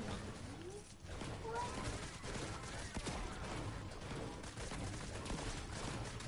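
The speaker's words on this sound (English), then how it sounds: "What are they shooting at?" Video game gunfire crackles in dense, continuous bursts throughout, moderately loud, under scattered speech and a noisy game soundscape.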